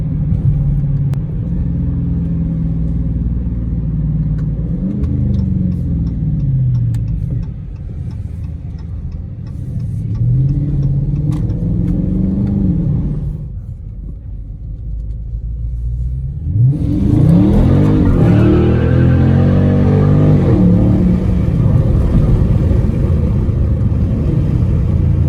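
A widebody Dodge Scat Pack V8 revs hard through the gears in the rain, rising in pitch and dipping at each shift, with a brief lull before a louder, sustained burst close by; no talking.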